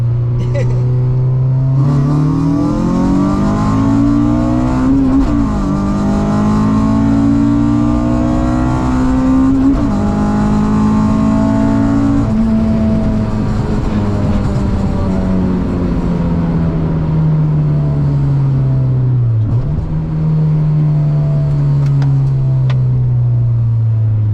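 A Honda EK hatchback engine revs hard and loud in second gear, its pitch climbing steadily through a long pull, with brief dips where the revs drop before rising again.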